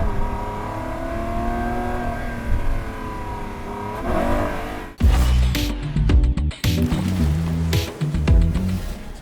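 A Lamborghini Aventador Ultimae LP780-4 engine holds a steady droning note, then erupts into loud, close revving blasts that surge and drop repeatedly over the second half.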